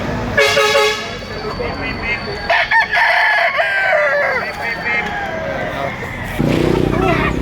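Gray gamefowl roosters crow loudly and nearby among clucking chickens on a farm in Lipa, Batangas, with someone talking over the repeated crows.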